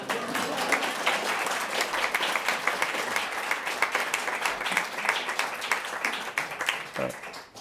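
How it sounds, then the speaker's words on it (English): Audience applause at a human rights lecture, a sustained burst of many hands clapping, fairly close and even, tapering off near the end. "You can clap."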